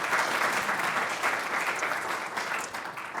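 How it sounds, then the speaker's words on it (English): A symposium audience applauds a speaker with dense, sustained clapping that stays loud and fairly even, tapering slightly near the end. "one more round of applause for Megan."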